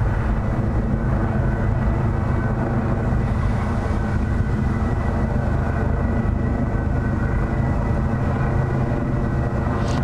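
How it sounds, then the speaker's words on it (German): Steady low rumble of a helicopter flying overhead, a continuous droning hum that holds level for the whole stretch with no talking. "über mir ist jetzt immer noch ein Hubschrauber"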